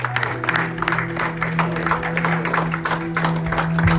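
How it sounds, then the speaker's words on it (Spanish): A church congregation claps loudly and continuously, with a sustained musical tone humming underneath the applause. "Denle un fuerte aplauso al pueblo del Señor."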